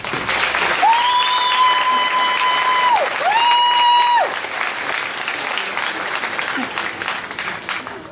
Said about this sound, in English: ask that we all give them a round of applause.